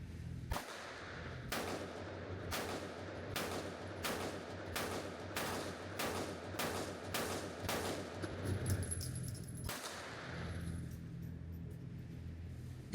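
Compact Glock pistol fired at a range, about a dozen sharp shots spaced roughly a second apart in a steady rhythm, loud and close with a short pause before the final shot.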